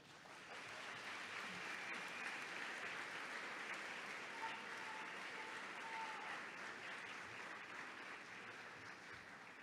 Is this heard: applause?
yes